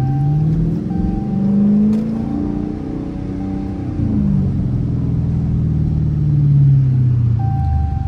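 Dodge Challenger R/T with a 5.7 engine, heard from inside as it downshifts and revs, a loud steady rumble with rising and falling engine tones and no talk.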